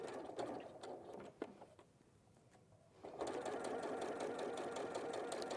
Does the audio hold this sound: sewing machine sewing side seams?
yes